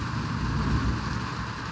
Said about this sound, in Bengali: কোথায় কোথায় বৃষ্টি হচ্ছে